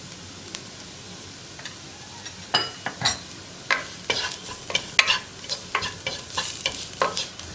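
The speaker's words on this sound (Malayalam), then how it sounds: "ഒന്ന് മാറി വരുന്നത് വരെ നമ്മൾ ഇളക്കി കൊടുക്കാം" Coriander powder frying in oil in a pan for a simple cauliflower masala, stirred with a utensil in a steady run of scraping, clicking strokes over a faint sizzle, close and fairly quiet.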